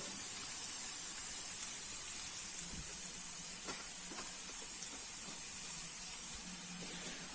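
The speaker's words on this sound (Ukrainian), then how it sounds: "Але цибульку ми підсмажимо до такого гарного золотистого." Chopped onion sizzles in a pan for a vegetable stew, a steady, close frying hiss with soft crackles that runs unbroken and alone.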